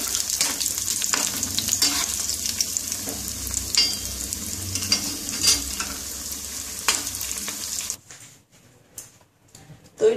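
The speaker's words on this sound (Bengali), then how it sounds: "এগুলো ওই রকম আগেকার মতন লাল লাল করে ভেজে তুলে নেব।" Banana flower cutlets fry in hot oil with a steady close sizzle and crackle, sputters popping through, until the frying cuts off near the end and only faint clinks remain.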